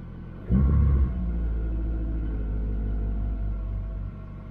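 A Mitsubishi Eclipse GSX engine with a newly installed idle air control valve idles with a deep, steady low rumble, rising into a brief louder surge at the start before settling into an even drone.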